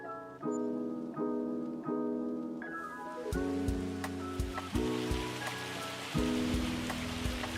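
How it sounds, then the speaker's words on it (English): Hail in a farming simulator video game starts as a dense hiss of pattering ice that joins a tonal melodic backing and then keeps going under it. "Oh, it's hailing."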